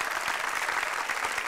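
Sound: audience applause at stand-up comedy show

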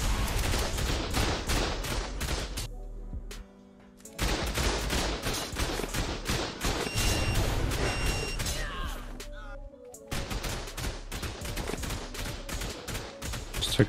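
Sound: turrets shooting in video game ARK

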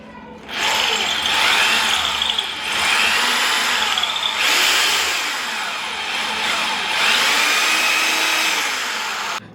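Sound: power drill making a small hole for a screw

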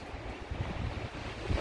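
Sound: strong typhoon wind

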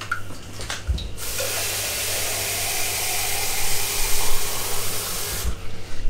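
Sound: pouring a load of water into the ossobuco pot

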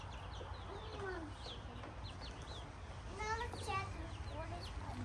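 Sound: chicken clucking

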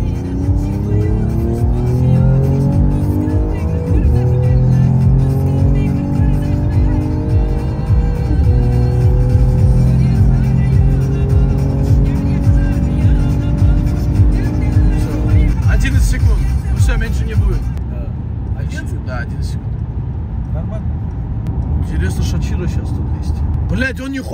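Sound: Mercedes CLS 63 and E53 accelerating hard

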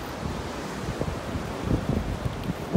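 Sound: wind

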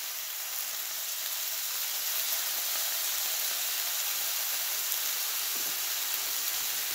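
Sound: bacon sizzling in a pan

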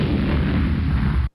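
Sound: explosion sound effect for the Big Bang

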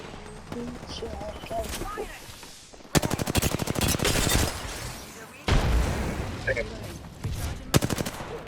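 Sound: gunfire from a distance in video game Apex Legends

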